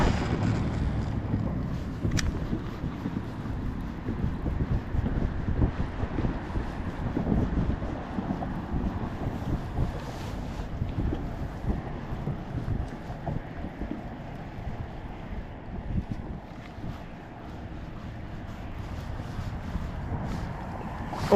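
Steady wind buffeting the microphone on a lake in winter from a bass fishing boat, a continuous low rumble with gusts and a faint click, no talking.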